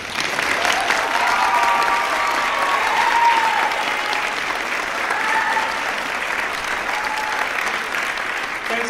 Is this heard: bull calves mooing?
no